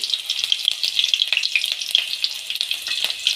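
Green chillies frying in three to four tablespoons of hot oil in a pan, a loud steady crackling sizzle with sharp pops throughout.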